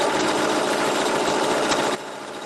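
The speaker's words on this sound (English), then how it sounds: "And then we're gonna sew it down nicely." Sewing machine stitching stretch fabric for a turban, a fast steady close mechanical whir that cuts off abruptly near the end, with no talking.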